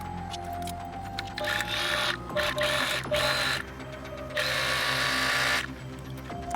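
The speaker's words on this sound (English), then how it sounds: "Now we're just going to stitch 1/4 inch all the way around the top edge." A sewing machine runs up close, stitching a quarter-inch seam around the top edge of a Halloween trick-or-treat bag, whirring in several bursts of steady stitching broken by short pauses.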